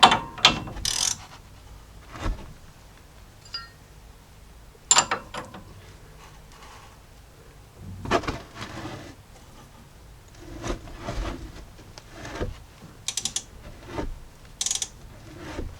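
A hand ratchet clicks rapidly on the sway bar end link of a 2016-2021 Jeep Grand Cherokee during strut replacement, in several close, sharp bursts of pawl clicking separated by short pauses.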